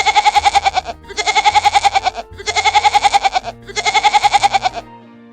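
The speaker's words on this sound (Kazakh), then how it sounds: "Ал мынау ешкі мен лақ. Олар қандай дыбыс шығарады екен?" A goat and its kid bleat in four loud, close, evenly spaced bursts, each a rapid quavering cry lasting about a second, with short pauses between.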